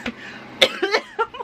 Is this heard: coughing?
yes